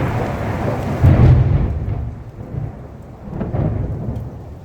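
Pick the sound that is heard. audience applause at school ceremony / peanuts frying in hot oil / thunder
thunder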